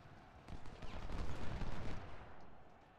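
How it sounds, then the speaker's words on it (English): Musket volley fire from an American Civil War battle at Thoroughfare Gap in the Ultimate General: Civil War game, a dense rolling crackle of many shots swelling for about a second and a half before easing into a low rumble. "He wandered into the volley fire of Hunton there"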